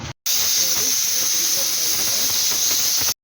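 Steam hisses steadily and loudly out of a pressure cooker after its whistle, as spinach greens sambar cooks inside, a continuous broadband rush that cuts off cleanly at both ends.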